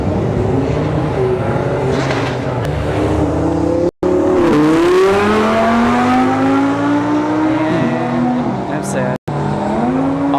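Drag race cars at a strip, a Mazda Speed 3 lined up against an Audi R8, with loud engines revving and accelerating through rising gear sweeps, close and sustained, while people talk over the noise.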